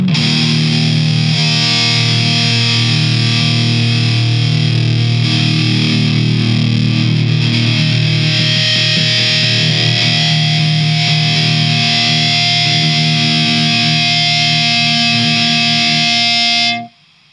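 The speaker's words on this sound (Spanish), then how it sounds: "Le vamos a dar toda la distorsión también." Electric guitar run through a DOD Metal X FX70 pedal at full distortion, holding one loud, saturated, buzzing chord that rings for about sixteen seconds and then cuts off abruptly, with no talking.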